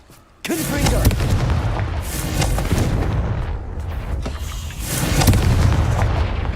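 Fiery Confringo spell blasts in the wizarding game Hogwarts Legacy, a loud booming burst followed by rumbling, crackling explosions that swell again near the end.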